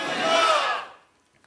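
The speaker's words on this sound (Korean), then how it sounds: "바로 전방에 함성 날아갑니다" Audience at a Korean youth talk concert shouting together in one loud, brief collective cry that swells and then cuts off abruptly, followed by near silence.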